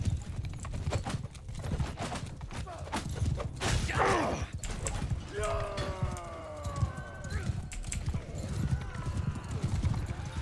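Horse hooves clop and pound in a Mount & Blade battle, a steady, close galloping rhythm with a brief whinny and clashing combat noise, while a voice talks over it.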